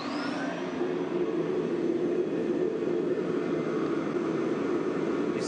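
A standard portable carpet extractor runs, giving a steady, constant roaring whoosh of motor and airflow, fairly loud and close, with a hiss that starts at the outset and then holds level, with no voices.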